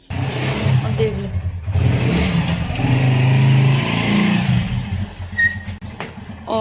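A motorbike is wheeled out and started at a home where a house is being built. Its mid-pitched engine hums and revs, swelling louder through the middle under ongoing talk and household noise.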